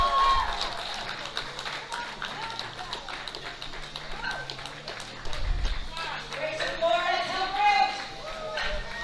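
A crowd at a masters powerlifting world championship cheers and applauds a woman's deadlift, with a dense, steady roar under a commentator's voice that swells louder near the end.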